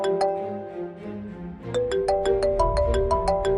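A mobile phone ringtone sounds for an incoming call in a Telugu drama, playing a bright melodic chime tune with repeated bell-like notes, clear and close and unaccompanied by speech.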